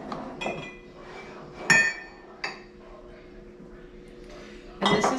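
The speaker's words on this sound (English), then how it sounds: "So I've got a teaspoon here. I'm just putting in like the very tip into each one." A metal teaspoon scoops cinnamon into containers with several sharp, bright clinks spaced irregularly, close and fairly loud against a quiet kitchen background.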